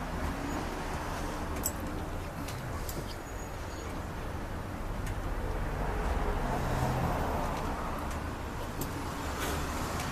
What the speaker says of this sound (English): I hope you can hear me over the sound of the truck.